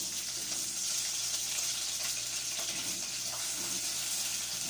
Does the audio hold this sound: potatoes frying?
yes